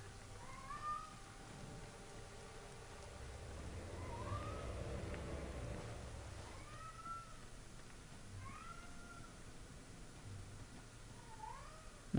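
Cat meowing in Ghost Recon: Future Soldier, a handful of short rising-falling meows and a caterwaul scattered over a low ambient game background, moderately faint with no talk.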